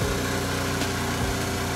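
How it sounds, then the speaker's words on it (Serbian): Motorcycle engines run with a steady, close droning hum that holds even throughout, with no talk. "Nek vide kako voze se motori."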